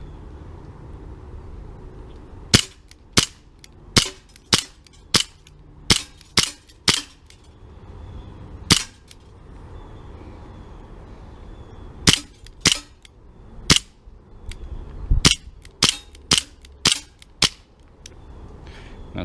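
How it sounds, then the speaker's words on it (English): Sharp cracks from a Tanfoglio Witness 1911 CO2 blowback BB pistol emptying its magazine, fired close by in two rapid volleys of about eight and nine shots with a lull between, over a low steady background rumble. "I will fire the rest of the magazine."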